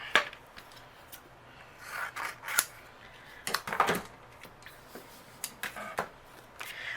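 Cardstock being trimmed on a craft mat, a series of close, light scraping and rubbing strokes in irregular bursts, with soft paper rustles between.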